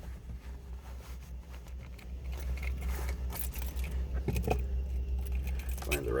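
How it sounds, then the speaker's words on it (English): A bunch of keys jangles and clinks close by during a search for the right key to a 1957 Chevrolet 3100 Stepside pickup, with low background rumble and a few sharper metallic clicks. "Find the right key."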